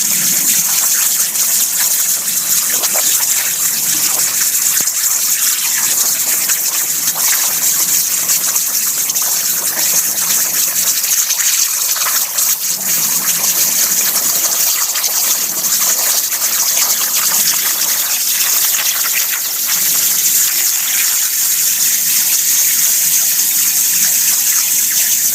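A BurnTables plasma table cuts an Arizona-shaped piece of metal art underwater, giving a steady, loud hiss and gushing bubble noise with a high squeal that runs unbroken throughout, with no talking.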